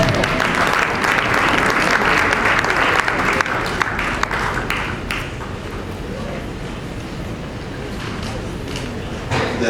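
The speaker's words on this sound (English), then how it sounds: "Give them a round of applause." Enthusiastic audience applause fills a theatre festival stage in Lagos, a dense, steady wash of clapping that swells loudly at first and then eases slightly while continuing to the end.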